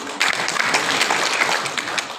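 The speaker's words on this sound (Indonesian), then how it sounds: "Tepuk tangan dulu." Audience at the opening ceremony of a regional working meeting applauds a vice-regent candidate, a dense steady burst of clapping lasting a couple of seconds with a faint voice or two mixed in.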